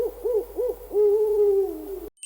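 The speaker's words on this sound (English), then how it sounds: "Who's hooting in the moonlight? Is it a pigeon, an owl, or a hawk? Yup, it's the owl." An owl gives three quick, clear rising-and-falling hoots and then one long drawn-out hoot, loud and close against a quiet background.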